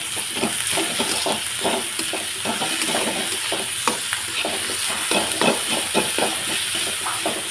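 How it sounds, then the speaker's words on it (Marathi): Chopped onion, ground green chili and garlic sauté in a hot pan for a spring-onion vegetable dish. A continuous sizzle and hiss runs throughout, broken by repeated scraping stirs. No voices are heard. "त्यात ही चांगलं परतून घ्यायचं"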